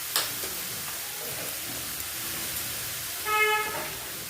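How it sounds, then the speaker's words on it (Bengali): Boiled potatoes stirred in a hot frying pan with spices for vegetable chop, a constant low sizzle with faint scraping and a brief hissing whistle near the end, with no voices. "সেদ্ধ আলুটা দিয়ে এই যে একটু নাড়ানাড়ি করে তারপরে মশলাগুলো দিয়ে দিচ্ছি।"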